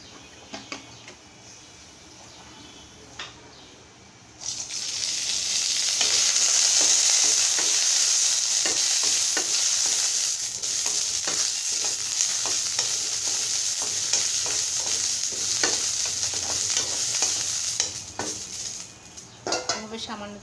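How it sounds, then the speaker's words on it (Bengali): Green chillies fry in a little oil in a pan, a loud, steady sizzle that starts suddenly and runs on with scraping stirs and clinks of the utensil against the pan, with no one talking. "আমি এখন মরিচগুলো ভেজে নেব, একটু সামান্য তেল দিয়ে মরিচগুলো ভেজে নেব।"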